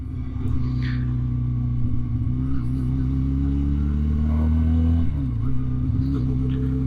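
Regal Raptor Pilder 250 twin-cylinder motorcycle ridden in third gear at low revs, a steady, close, low-pitched engine drone whose tone shifts slightly partway through.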